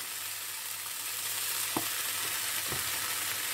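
Red and yellow bell peppers frying in a pan with a steady, soft sizzle and hiss, close but fairly quiet, broken by two brief scrapes of stirring.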